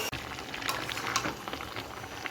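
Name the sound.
chicken being sautéed in a pan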